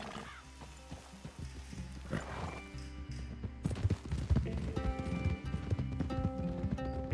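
Horses clip-clop in Red Dead Redemption 2, a run of uneven hoofbeats that grows louder and busier toward the end, with sustained tonal sounds beneath.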